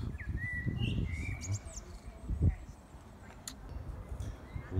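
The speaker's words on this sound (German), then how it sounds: "Vögel zwitschern, freuen sich auch, dass es warm wird." Birds chirping in the Vienna Zentralfriedhof cemetery on a warm sunny day, several faint, brief tweets and short calls scattered over a background of footsteps and outdoor murmur.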